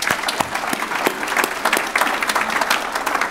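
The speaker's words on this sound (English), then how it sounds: "Can we actually give all our panellists a big round of applause?" Conference crowd at a farming panel on hill country agriculture gives the panellists a big round of applause: thick, continuous clapping, close and lively, with no voices.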